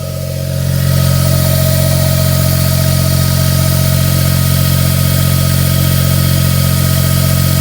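A Smart ForTwo 450 idles after an oil and filter change, a loud, close, even engine hum that holds steady throughout with no talking.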